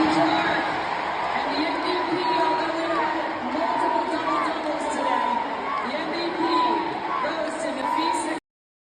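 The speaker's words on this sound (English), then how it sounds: "this is the clip of the crowd. I said the crowd. The crowd chanting." Large crowd at a WNBA game chanting in unison, a steady loud roar of many voices with rhythmic swells running throughout and cutting off abruptly near the end.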